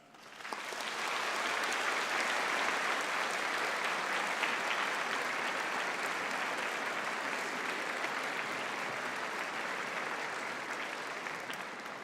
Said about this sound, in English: should the graduands have a round of applause for all the special people who are here celebrating with you today?